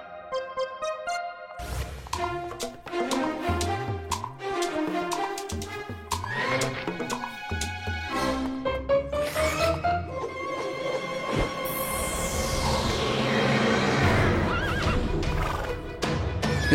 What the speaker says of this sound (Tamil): இது காட்டு குதிரை மாதிரி இருக்கு, ரொம்ப அழகாவும் இருக்கு.